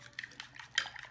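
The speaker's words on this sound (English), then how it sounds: "you want to make sure you mix from the bottom so that it's going to be mixed quite well" Egg and sugar being whisked for a Japanese tamagoyaki omelette, with quick light clinks of utensil against a bowl in short bursts, close and fairly quiet.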